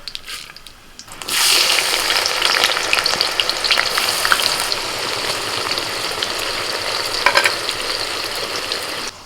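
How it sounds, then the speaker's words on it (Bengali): Whole spices (bay leaf, cardamom, cinnamon and cloves) drop into hot ghee for chicken curry, setting off a sudden loud sizzle that holds steady and close, crackling with pops and occasional stirring clatter, no one speaking. "এবার চিকেনটা রান্না করব ফোড়নে দিচ্ছি তেজপাতা এলাচ দারচিনি লবঙ্গ দিচ্ছি"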